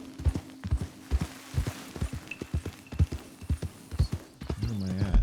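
Horse hooves clip-clopping on the ground in Red Dead Redemption 2, a close, rhythmic walking gait with evenly spaced thuds, ending in a snort or whinny.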